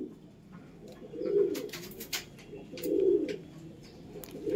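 Green Andhra pigeons in a home breeding loft coo in two low, swelling bursts, fairly near, with faint scattered clicks and rustles between them.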